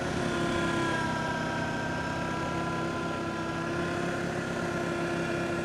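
An Arctic Cat Diesel 700 snow machine engine runs steadily at a low, governed speed, a constant droning hum close by with no revving.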